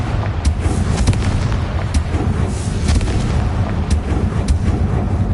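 Blasting spell explosions from the Confringo spell in Hogwarts Legacy boom out in a dense, loud barrage of crackling bursts, with sharp pops cutting through a constant rumbling roar.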